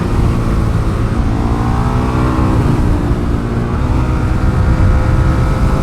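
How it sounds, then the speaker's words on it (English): A 2008 Ducati 1098 twin-cylinder motorcycle revs hard on a race track, a loud continuous engine roar with rising and falling pitch as it accelerates, close and dominant throughout. "Show them what 2008's twin-cylinder engine really was all about."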